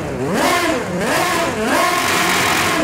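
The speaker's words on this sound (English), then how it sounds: "Let's see what this thing sounds like in an RPM test." Lamborghini Essenza SCV12 V12 engine in Forza Horizon 5 revving hard in an RPM test, loud repeated rises and falls in pitch as the throttle is blipped, close and alone with no talk.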